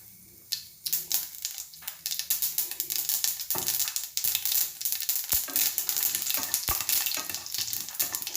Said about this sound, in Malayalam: ഇങ്ങനത്തെ ചട്ടിയിൽ നിന്ന് കടുക് പൊട്ടി തെറിക്കും മേലോട്ട്.